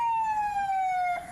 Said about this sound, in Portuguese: As sirenes nunca param.